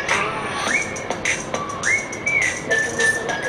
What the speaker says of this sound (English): I don't know they're really whistling the song